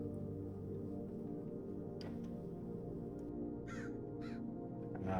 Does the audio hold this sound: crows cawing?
yes